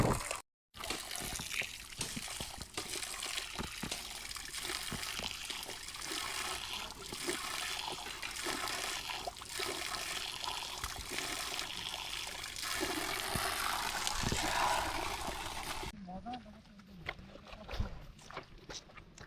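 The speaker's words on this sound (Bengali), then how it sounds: "ওই যে জিরি বেয়ে যে আসে জিরির পানি একদম ফ্রেশ" Fresh spring water flows down from the hills near a trekking trail at Mukampunji, Rangpani, Sylhet. It runs as a steady, close, full-band rush and trickle for most of the clip, then thins out and drops lower near the end.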